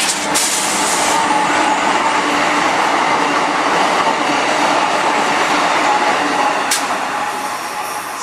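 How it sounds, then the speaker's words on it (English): An Amtrak passenger train roars past close by in Southern California, with continuous rumbling wheels and rail clatter and a brief high squeal near the end. "The Amtrak still passes through here."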